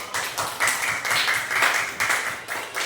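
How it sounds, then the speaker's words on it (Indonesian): Children in a classroom clap together for a few seconds, a dense, bright patter of small hands with slight pulses, close and fairly loud, with a faint voice underneath. "tepuk tangan untuk hari ini"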